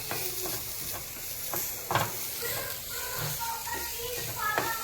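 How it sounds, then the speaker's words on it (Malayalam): Chopped carrot, onion and coconut sautéed in a pan, with irregular scraping stirs and light clinks over a low continuous sizzle, close and moderately quiet. "ഈ അരിഞ്ഞ് വെച്ചിരിക്കുന്ന സാധനങ്ങളൊക്കെ ക്യാരറ്റ്, സവോള, തേങ്ങ ചീഞ്ചട്ടിയിൽ നന്നായിട്ട് വഴറ്റിയെടുക്കുക."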